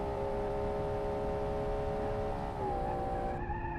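A car engine drones steadily at high revs while tires give a sustained squeal as the car understeers through a high-speed corner, the tone shifting near the end.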